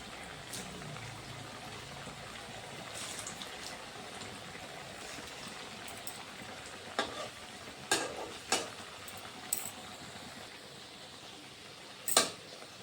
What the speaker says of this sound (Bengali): সবগুলো দিয়ে দেব দিয়ে উলুট পালট করে লাল লাল করে ভেজে নেব